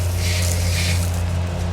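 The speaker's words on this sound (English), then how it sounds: "So I have to spray them with the hose." A garden hose sprays water steadily at farm animals on a farm, a loud, continuous close hiss running unbroken throughout.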